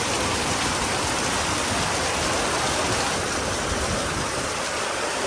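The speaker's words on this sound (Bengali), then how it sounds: "এখন ঝপঝপ করে বৃষ্টি পড়ছে।" Heavy rain pours down in a dense, steady hiss, loud and close, a continuous wash of drops with no pauses or voices.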